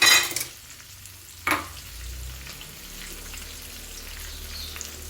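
Shrimp, 500 grams, hit a hot pan for a shrimp gravy, opening with a loud sizzle that quickly settles into a soft, steady frying hiss, with a second brief sizzling burst.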